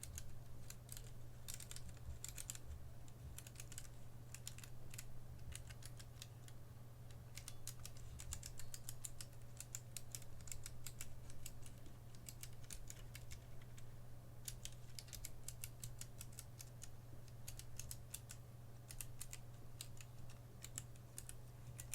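A mechanical computer keyboard under test during a switch check is typed on steadily, a dense run of close, quiet clicks and clacks over a low background hum.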